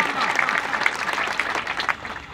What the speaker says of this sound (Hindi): जोरदार तालियां मरहूम नजीबुल्लाह खान वास्ते